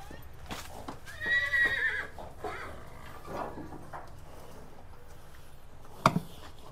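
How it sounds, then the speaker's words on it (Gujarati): A riding horse on a farm lets out a clear whinny early on, followed by quieter hoof clops and shuffling, then a single sharp knock near the end. "આ રહ્યો ઘોડો"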